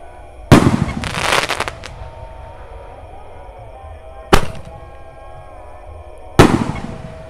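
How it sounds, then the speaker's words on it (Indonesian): Roman candle fireworks, 1.9-inch size, set off outdoors for Lebaran: three sharp loud bursts spaced a few seconds apart, each with a crackling tail, and an idle hum underneath. "Ini mercon terbesar, guys."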